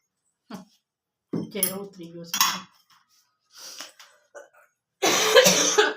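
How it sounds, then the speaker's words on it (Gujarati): A sick woman with a fever coughs in several short, separate bursts that build to a loud, harsh fit at the end, close by, with light clinks between them. "બોલો તો ખાંસી થાય છે."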